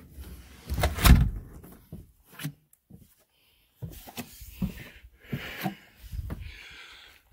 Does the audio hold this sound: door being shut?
yes